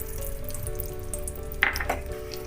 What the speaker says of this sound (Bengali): এর মধ্যে আমি ঘি দিয়ে দিলাম একটু নুন দিয়ে দিলাম তাহলে ছিটে আসবে তো